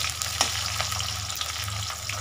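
Onions frying in a pan as the base for a lightly spiced red chicken curry give a steady, close sizzle with a low hum beneath, and one brief scrape near the start. No one speaks.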